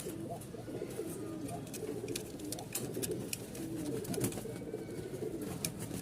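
A pair of almond cream pigeons coo steadily and close by in an indoor loft, the low rolling calls overlapping continuously with faint clicks and rustles in the background.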